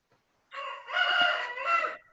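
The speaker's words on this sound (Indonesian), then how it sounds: "Ayam tetangga, Pak" A neighbour's rooster crows once, a loud, near cock-a-doodle-doo rising and holding for about a second and a half, with nothing else around it.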